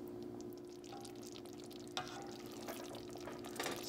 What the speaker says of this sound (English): Stir it up. And we will let it keep simmering down.